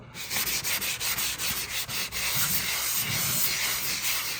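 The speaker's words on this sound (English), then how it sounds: "you can take a sanding sponge, medium grit," A medium-grit sanding sponge scrapes back and forth against a wall after wallpaper removal in quick rhythmic strokes, then steadier continuous rubbing, close and fairly loud.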